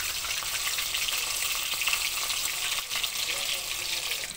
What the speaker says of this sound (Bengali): এভাবে আমি প্রতিটা ব্যাচ ভেজে নেব